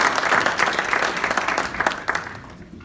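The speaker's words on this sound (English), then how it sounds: "So let's have a round of applause for them" A crowd at a Rotary Foundation meeting gives donors a round of applause, dense steady clapping that holds strong before thinning out near the end.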